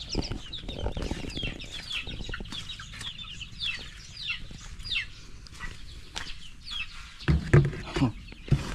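Newly hatched chicks peep in quick, high, overlapping bursts while grown chickens cluck nearby, with scattered soft rustling and a louder flurry of clucks near the end.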